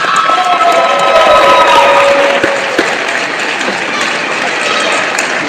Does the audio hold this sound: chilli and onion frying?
no